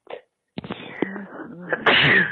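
A sharp, close sneeze bursts out after a brief quiet start, followed by a breathy exhale.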